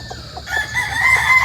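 A Sweater line gamefowl rooster crows on a farm in Barangay Balele, Tanauan, Batangas, one short, nearby call that rises after a few soft clucks.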